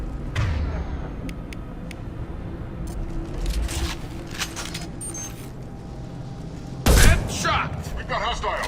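Gunfire from the Mass Effect 2 video game crackles in several bursts, including a loud, sharp volley near the end, over steady game ambience and voices.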